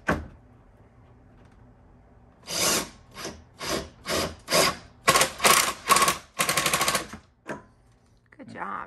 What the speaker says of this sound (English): hold that while you run your screw in